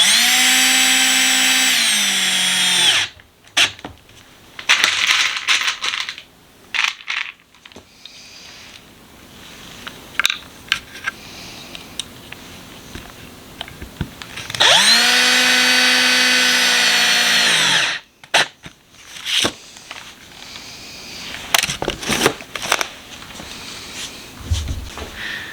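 A power drill drives 1 inch screws into wood for a small squirrel picnic table, with two sustained loud whirring runs near 0–3 s and 15–18 s and quieter clunks and handling noises in between.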